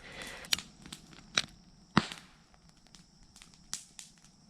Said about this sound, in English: digging for something again